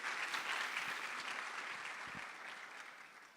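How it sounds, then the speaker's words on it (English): A university hall audience at a digital rights elections statement launch applauds the panelists. The clapping is soft and even, a bit distant, and fades gradually toward the end. "Can we give them another round of applause?"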